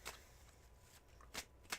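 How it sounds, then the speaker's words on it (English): A deck of cards is shuffled in several quick riffles, soft close bursts spaced apart with quiet gaps between, heard alone at low volume. "Here is your serious 4 shuffles."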